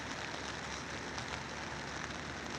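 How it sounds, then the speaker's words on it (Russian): Steady rain patters continuously on a tent in China, a dense soft hiss with scattered drops and no voices. "Снова идет дождь."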